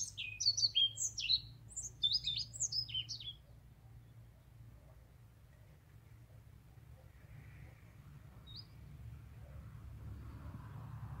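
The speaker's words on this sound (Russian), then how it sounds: "В домике для скворцов у нас поселились мухоловки." Flycatcher chicks in a starling nest box give a rapid burst of high, thin chirps, then fall quiet under a steady low background hum.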